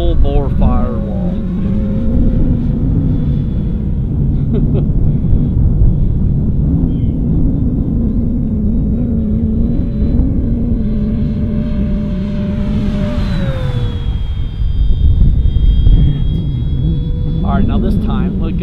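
An FMS P-47 Razorback 1500mm RC plane on its maiden flight at full throttle, its loud, steady propeller whine droning and shifting in pitch as it passes, with a voice talking over it.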